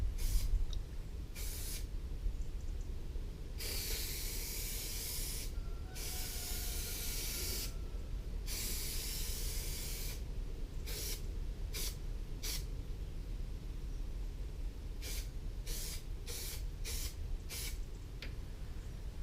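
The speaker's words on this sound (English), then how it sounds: "apply spray contact adhesive to both surfaces." Spray can of contact adhesive hissing in repeated bursts of varying length, close and fairly quiet, with short pauses between sprays and no talking.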